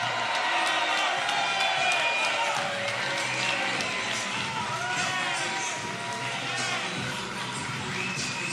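A crowd at a boxing event cheers and applauds as former heavyweight champion Larry Holmes is introduced, with a dense, sustained roar of voices and mixed shouting at moderate distance.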